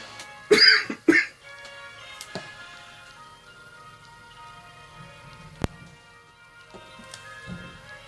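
Two sharp coughs close together near the start, then a quiet room with a faint hum and a few scattered ticks and taps.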